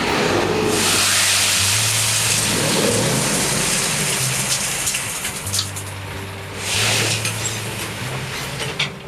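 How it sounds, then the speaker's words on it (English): A delivery truck dumps a load of gravel in a front yard. A loud rushing pour of stone rolls over a deep, steady engine drone, with the rumble surging twice as the load slides out. "Get the delivery driver to drop the gravel in a convenient location."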